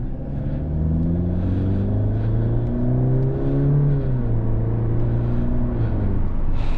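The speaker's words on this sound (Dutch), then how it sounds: "Lekker geluid. Niet een hele gekke acceleratie." A Mercedes-Benz AMG C180 with a 1.4-liter engine accelerates through the gears, its loud, smooth engine note climbing in pitch, briefly dropping at a shift, then rising again with a steady road rumble underneath.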